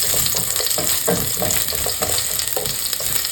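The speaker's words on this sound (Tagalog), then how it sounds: "Lagay tayo ng mantika, siyempre. At magigilsa tayo ng luya." Chopped ginger sautéing in hot cooking oil in a pan, a loud, steady sizzle and crackle throughout with faint scraping stirs.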